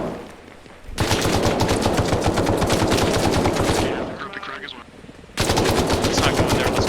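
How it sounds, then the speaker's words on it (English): Automatic gunfire in the military game Arma Reforger, with loud sustained bursts of rapid shots, a short lull, then another heavy burst of fire. "There are guys inside this building shooting out."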